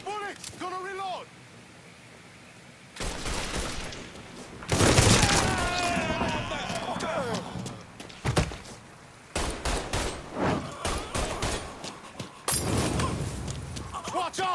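Bursts of gunfire from the Mafia III video game crackle in loud clusters separated by quieter gaps, with shouted voices mixed in among the shots.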